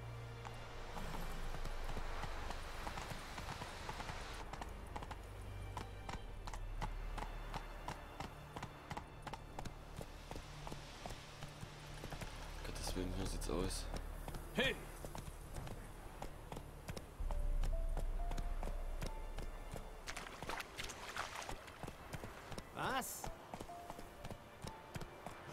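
A horse gallops in The Witcher 3, its hooves clip-clopping in a fast, steady rhythm over a low background, with a few louder accents along the way.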